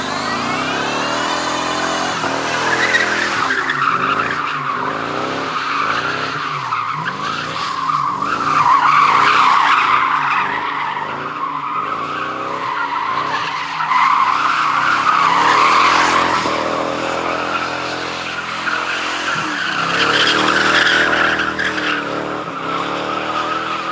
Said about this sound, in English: So I'm gonna have to do some more donuts and just make sure that it hasn't lost any of its donut